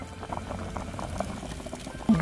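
Mugwort soup with flounder boils in a pot, a steady bubbling and gurgling that rises slightly louder near the end, with no talking.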